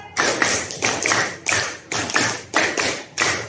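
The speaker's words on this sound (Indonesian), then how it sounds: "2 kali tepuk Pancasila." A classroom group claps the Tepuk Pancasila chant pattern: about eight sharp, even bursts of many hands striking in unison, close and loud, keeping a steady rhythm with short gaps between.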